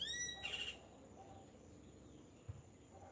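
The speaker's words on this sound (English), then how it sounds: "I just want to zone out and listen to the birds." Birds call faintly in a garden, a short burst of high chirping tones near the start followed by quieter sparse calls over soft outdoor background noise.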